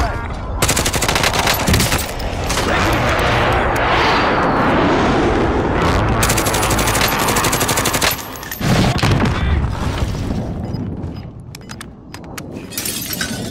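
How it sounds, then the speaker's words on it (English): An airstrike in Call of Duty Warzone hits alongside gunfire, a loud, near barrage of rattling shots and crashing blasts with glass-like shattering that runs almost nonstop for about thirteen seconds, briefly pauses once, then tapers off. "airstrike."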